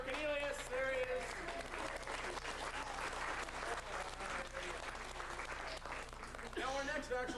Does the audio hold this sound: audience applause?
yes